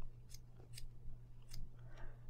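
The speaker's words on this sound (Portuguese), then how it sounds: "É bom uma tesoura bem amoladinha, essa minha aqui tá nova, então tá fácil de cortar." Sharp new scissors snip through pompom yarn in several quick, crisp cuts, close and fairly quiet over a steady low background hum.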